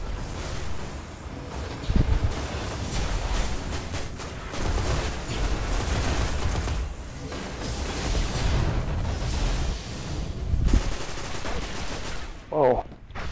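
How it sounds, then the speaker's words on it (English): Sustained gunfire and explosions in the video game Destiny during an Iron Banner match, dense rapid bursts and booms running continuously and loud, with a voice talking over them. "Shooting, I don't know what I'm even shooting at."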